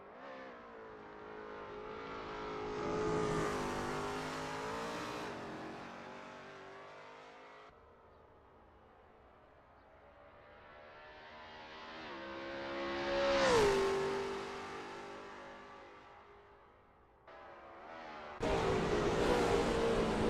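A Lola T70 MkII Spyder race car engine in a racing game at Sebring swells and fades through repeated revving climbs and gear changes. One sharp upshift cuts in, then the engine roars loudly again at the end.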